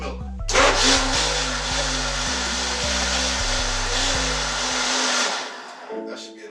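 A kitchen blender whirs steadily for about five seconds, blending a smoothie of mixed fruit, coconut and honey, then cuts off abruptly, leaving a low rumbling motor hum underneath throughout.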